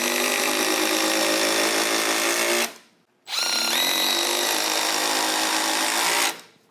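A Milwaukee M12 FUEL Surge hydraulic impact driver drives a screw in two loud, close bursts of whirring, with a brief pause between them and a rising pitch as the head seats.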